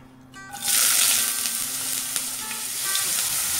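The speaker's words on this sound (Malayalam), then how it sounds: "ഇതിന് ഈ എണ്ണയിൽ നന്നായിട്ടൊന്ന് മൂപ്പിച്ചെടുക്കണം." Finely chopped ginger hits hot oil in a pan for Kerala puli inji, jumping into a loud, steady sizzle after a quiet start and crackling on without a break, with no voices.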